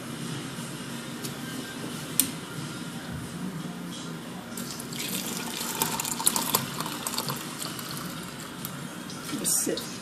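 Hot water runs steadily from a tap into a vessel, a continuous close splashing stream lasting throughout, with faint background noise and no speech over it.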